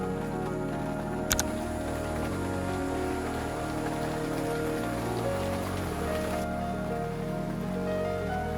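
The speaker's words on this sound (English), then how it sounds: "Just as we entered, the rain began to fall" Steady gentle rain falling in a garden in Taipei, a continuous even patter on surfaces with a brief sharp knock near the start and no voices.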